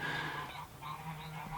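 Geese keep honking faintly in the distance, a few scattered nasal calls over a low steady background hum.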